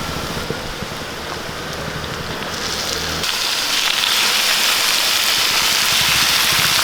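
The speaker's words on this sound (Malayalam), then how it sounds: "ഇനി ഇതിലേക്ക് നമ്മൾ മസാല പരട്ടി വെച്ചിരിക്കുന്നത് ചിക്കൻ ഇട്ട് കൊടുക്കാം" Masala-marinated chicken for a shallot chicken fry hits a hot pan, a steady crackling sizzle that swells louder partway through and keeps hissing with no talk over it.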